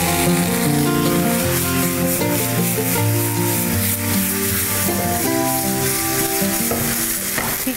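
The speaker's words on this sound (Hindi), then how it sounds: "लेमन जूस ऐड करेंगे और इसको कुक करेंगे।" Chicken pieces sizzle and fry steadily in a pan with lemon juice and a sprinkle of salt, a loud continuous crackle with occasional stirring scrapes and no talk.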